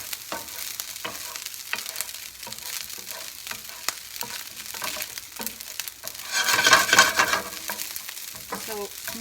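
Fried rice with soy sauce, sake and butter sizzles in a pan while a utensil scrapes and stirs it in repeated strokes, with one louder sizzling burst partway through.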